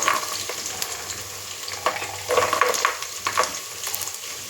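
Green peas and vegetables with green chillies frying in hot oil for a veg biryani, a close steady sizzle with occasional scraping stirs and spatters, alone without talk.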